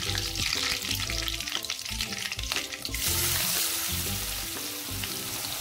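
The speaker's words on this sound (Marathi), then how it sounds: "आणि कांदा टाकून परतून घेणार आहोत।" Onion sautéing in hot oil in a pan with curry leaves and asafoetida, a loud steady sizzle with bursts of frying crackle and faint stirring over a low background hum, no talking.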